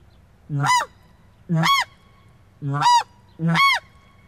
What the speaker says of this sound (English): then there is the slow version of the hail call. Two pitch.